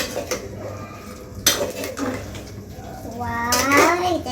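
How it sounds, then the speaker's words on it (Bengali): Beef curry being stirred and cooked down in a pot, with metal-on-metal scraping and clattering of a spoon against the pan, close and fairly loud, with a sharp clank midway. "আমি ভালোভাবে এটাকে ভালো ভালোভাবে কষিয়ে নিচ্ছি"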